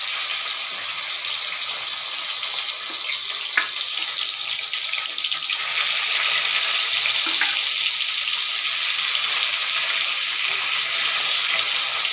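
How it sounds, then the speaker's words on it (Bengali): Potato pieces for a fish curry hiss in hot oil tempered with cumin and nigella seeds, a steady, fairly loud broadband sizzle throughout with a few faint clinks, no voices. "তেলে সাদা জিরা আর কালো জিরা ফোড়ন দিয়ে আমি মাছের ঝোলের আলুগুলো ছেড়ে দিলাম।"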